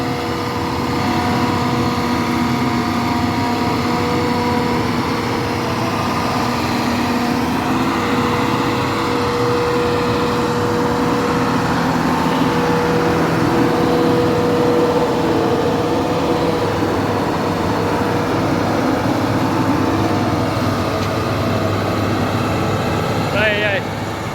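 A Claas Jaguar 870 forage harvester at work during silage making gives a steady mechanical engine drone that runs throughout, while a person talks over it.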